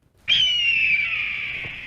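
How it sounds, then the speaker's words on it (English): A single long, piercing hawk screech, shrill and steady, slowly fading over a couple of seconds against a quiet background. "like what you're hearing is a hawk"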